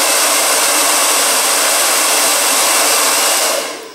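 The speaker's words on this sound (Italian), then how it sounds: "se riscaldate il piano di disegno con il phon" A hair dryer blowing steadily with a loud, constant whoosh that tapers off at the very end.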